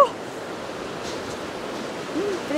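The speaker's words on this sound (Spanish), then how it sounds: "Miren la fuerza que tiene el río." Salado river in Mendoza rushing beneath a pedestrian bridge, a steady broadband roar of fast-flowing water heard close and continuous, with a few faint voice-like bits mixed in.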